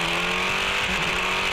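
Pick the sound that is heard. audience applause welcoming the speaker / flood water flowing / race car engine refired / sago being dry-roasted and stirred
race car engine refired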